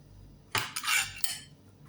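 Metal utensils clink and scrape against a dish while roasted food is moved into a container, a few sharp close clatters separated by short pauses, with no talk.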